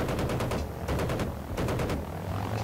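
Bursts of machine-gun fire in the video game Battlefield 1943 on the Coral Sea map. Three or four rapid volleys of sharp, loud shots are separated by brief pauses, with no talking over them.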